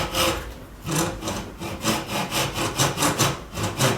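A hand saw cuts a wooden dovetail for a mitred box, giving rhythmic back-and-forth rasping strokes, close and steady, about nine or ten strokes with no talking.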